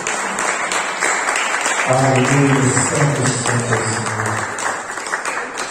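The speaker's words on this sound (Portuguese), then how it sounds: "salva de palmas para Cristo" Congregation in a church worship service applauds for Christ, a sustained loud burst of clapping overlapped by voices and a sung or spoken exclamation.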